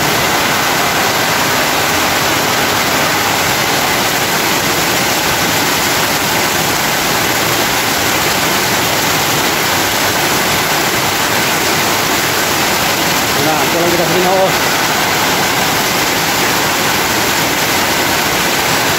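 Heavy rain with water rushing hard through a roadside drainage canal, a loud, constant roaring hiss with no letup, while someone speaks briefly over it.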